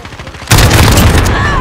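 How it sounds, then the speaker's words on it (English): A cruise missile strike in Call of Duty: Modern Warfare, heard during a team deathmatch, lands as a sudden loud, deep boom. It is followed by a sustained roar of rumble and debris that stays close and heavy to the end. "Allied cruise missile away."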